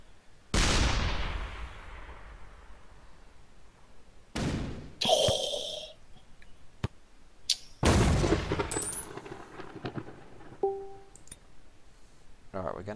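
A tracer shot fires in the tank artillery game ShellShock Live, with a sharp launch blast followed by scattered impacts, clicks and bursts spread across the stretch at varying loudness.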